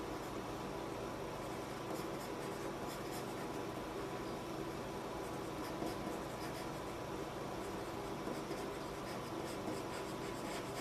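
A pen scratches steadily across paper while a meme face is being drawn, a faint continuous rubbing stroke over a soft room hiss, with no speech.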